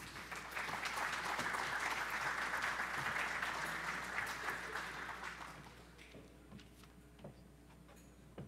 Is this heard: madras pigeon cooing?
no